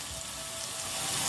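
Aloe vera fries in a pan with ginger, chilli powder and cumin powder, a short, soft, steady sizzle with no talking.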